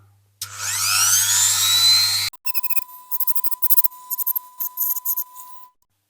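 A small angle grinder whines at high pitch against a Corgi 700 Motorway Ambulance diecast model, a sustained buzzing burst followed by a series of short, choppy grinding touches ending in a steady tone.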